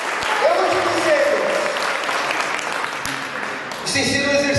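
Congregation in a church clapping hard and continuously, a thick crowd of hands with scattered voices calling out over it, fairly loud and unbroken to the end.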